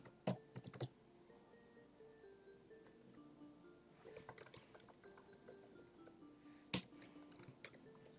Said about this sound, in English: I'm holding Control K. I just keep tapping K.